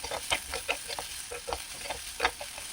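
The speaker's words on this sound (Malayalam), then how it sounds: "അപ്പോൾ ഉള്ളി എണ്ണയിൽ കിടന്ന് നല്ലതുപോലെ ഒന്ന് വഴറ്റിയെടുക്കണം." Small onions are sautéed in hot coconut oil for a capsicum theeyal, the spoon tapping and scraping in an uneven rhythm over a faint, close sizzle, with no one talking.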